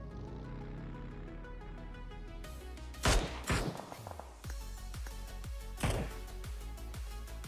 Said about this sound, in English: mostly long shots being traded here